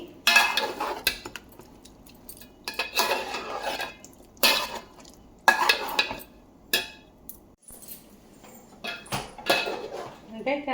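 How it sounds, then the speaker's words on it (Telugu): A spoon scrapes and clanks against a pot while chicken curry is stirred from the bottom, irregular bursts of metallic scraping with pauses between strokes. "ఒకసారి అడుగు నుంచి బాగా కలుపుకోవాలి"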